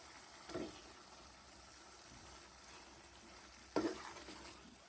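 Fried eggs drop into a simmering, oil-separated masala for egg korma and get stirred in, with two brief soft clatters of the spoon against the pan over a faint, steady background hiss.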